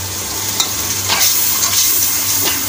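Keema masala with crushed green chillies fries in oil in a pan, a steady broad sizzle with a few soft scrapes of stirring, close and continuous with no talking.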